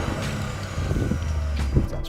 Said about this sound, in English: Let's hear the Yaris.